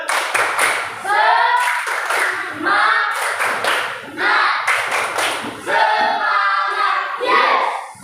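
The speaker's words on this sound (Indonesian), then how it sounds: "Kalau saya bilang tepuk semangat, ya tepuk semangat." A classroom of students performs a rhythmic spirit clap, bursts of loud group clapping in a patterned beat repeating across the stretch, with voices mixed in.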